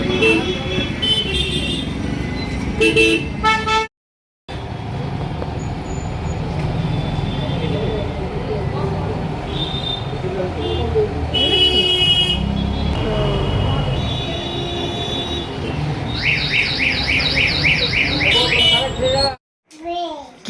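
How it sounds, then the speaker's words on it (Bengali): Busy road traffic on a street on the way to a temple: cars and buses rumble past steadily while horns toot repeatedly, with a cluster of honks near the end, and children and adults talk over the noise throughout. "যা গাড়ি চলছে রে বাবা"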